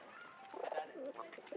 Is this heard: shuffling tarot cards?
no